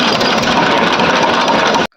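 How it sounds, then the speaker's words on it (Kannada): An HMT tractor engine with an abnormal noise runs loud and close in a rough, steady drone, then cuts off abruptly just before the end. "ಗಾಡಿ ಚಲೋ ಮಾಡುವಾಗ ಸೌಂಡ್ ಬರ ಅಂತ ಬಿಟ್ಟೈತ್ರಿ."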